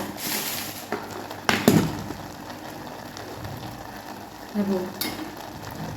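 Gram greens cooking with besan and crushed peanuts being stirred in a pan, soft sizzling under scraping and clinking of a spoon, with a couple of sharper knocks.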